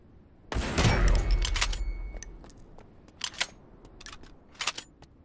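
Shotgun blasts in the shooter game Lost Light: one heavy, booming discharge up front, then several sharper, quieter shots spaced apart, with a brief mechanical clack between them.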